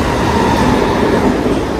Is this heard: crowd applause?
no